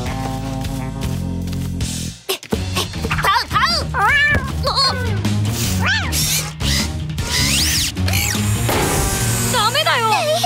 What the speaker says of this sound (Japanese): うちのいたずら子猫ちゃんが申し訳ない。